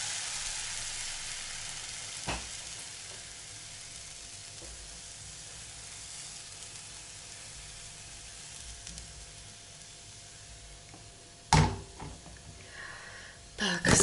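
Oat batter pancake frying in a heated pan, a steady soft sizzle running throughout with a brief clatter near the start and louder scrapes and knocks toward the end.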